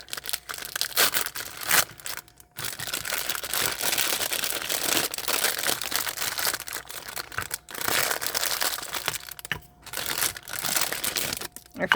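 Plastic packaging from a dollar store crinkles and crackles continuously up close, dense rustling bursts with brief pauses as it is handled.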